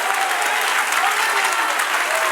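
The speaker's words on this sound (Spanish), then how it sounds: "Dale un aplauso al Señor." Church congregation applauding during a Spanish-language sermon, a dense, continuous clatter of many hands with faint voices mixed in beneath, steady and loud from start to finish.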